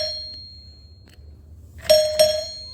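Two clear chime strikes from a newly installed Newhouse Hardware CHM1 door bell, a white wired unit, ringing close and loud after a quiet lead-in, each tone ringing briefly then fading; the pair sounds alike rather than rising and falling.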